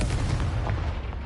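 Confringo blasting spell cast in Hogwarts Legacy, a short rumbling boom with a low, dense blast body lasting about a second, no speech over it.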